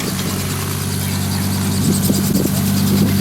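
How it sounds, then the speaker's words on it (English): A helicopter engine drones nearby as it lands near a steakhouse and mall area, its steady low rumble and blade throb growing slightly louder toward the end, with no talk. "who the fuck is just landing a chopper?"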